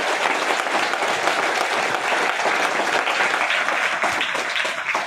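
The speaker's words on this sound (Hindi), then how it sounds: "इसीलिए एक बार परमात्मा के लिए दिल खोल के ताली बजाएं।" Seminar audience in Faridabad claps steadily and densely for five seconds, a loud, sustained wash of applause with no pauses or voices over it.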